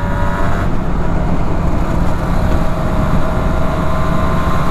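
A 1991 Suzuki RGV 250 VJ22 two-stroke motorcycle on a test ride gives a loud, continuous engine drone mixed with rushing wind, heard close and steady throughout.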